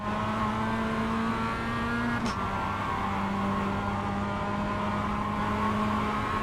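A race car's engine drones steadily from on board as it powers onto the straight, a loud sustained tone with a slight pitch shift midway and no talk.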